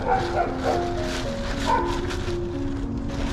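A puppy found during a fishing trip whimpers and yips close by in high, wavering whines, with light rustling underneath.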